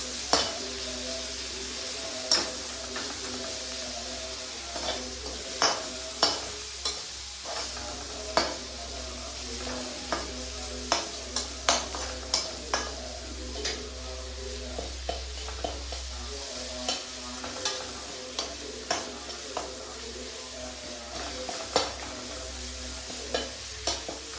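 Semolina for upma is stirred and roasted in a pan, a soft sizzle running throughout while a spoon scrapes and taps the pan in a regular rhythm of sharp clicks, close and without speech.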